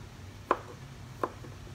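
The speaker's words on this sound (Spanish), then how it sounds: "lo pico en trocitos bien pequeños" Two sharp, isolated knife chops land about three-quarters of a second apart as chicken is cut into very small pieces on a board, with quiet room background between strikes.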